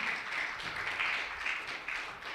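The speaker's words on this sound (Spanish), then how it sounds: "Denle un fuerte aplauso a Cristo Jesús." A church congregation applauds during a Spanish-language worship service, a dense, even patter of many hands clapping at moderate distance, continuous and without talk.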